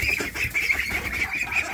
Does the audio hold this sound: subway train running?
no